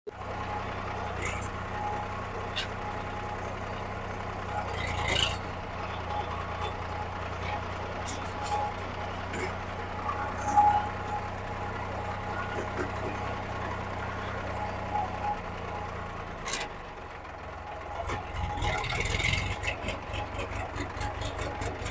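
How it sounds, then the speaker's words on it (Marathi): A tractor engine runs steadily while a learner drives it along a rough village road, a low rumbling drone with shifting revs, then cutting off near the end; people talk intermittently over the engine. "तर मित्रांनो ट्रॅक्टर वगैरे चालवलं आम्ही दुपारी"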